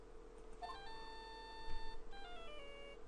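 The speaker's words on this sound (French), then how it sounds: "Tout d'un coup, le téléphone s'est mis à sonner." A mobile phone rings in the Phoenix Wright: Justice for All video game, an electronic ringtone of stepped beeping tones repeating twice over about three seconds, clear and alone above a low steady hum, with no talk.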